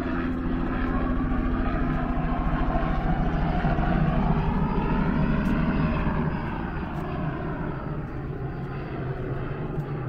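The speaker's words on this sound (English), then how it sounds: "There's the helicopter that gives tours." A tour helicopter flies overhead near an RV campground, its engine and rotor drone loud and steady, swelling slightly then easing as it passes, with no talk.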